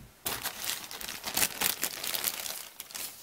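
Plastic packaging around chrome model car kit parts for a 1967 GTO being cut open, close crinkling and crumpling in irregular bursts with brief tearing, no talk.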